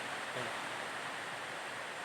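Steady broadband roar of water pouring at the Suuçtu waterfall, a constant close wash of falling water with a brief faint voice-like murmur early on.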